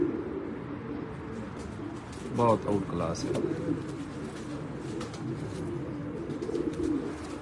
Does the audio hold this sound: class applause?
no